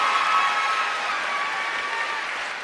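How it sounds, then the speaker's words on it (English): A lively crowd at a youth success seminar gives a loud, sustained round of applause mixed with cheering, dense and steady throughout. "Just give them both a round of applause."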